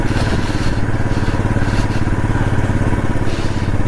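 Motorcycle engine running steadily during a foggy mountain group ride, a loud continuous throbbing rumble with faint rattles, heard up close.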